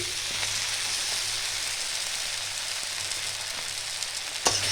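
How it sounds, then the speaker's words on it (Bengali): Cabbage stir-frying in a pan for a Bengali chorchori, with a steady broadband sizzle throughout, close and fairly loud, plus a sharp clatter near the end. "বাঁধাকপিটা একটু ভালো করে নাড়তে হবে"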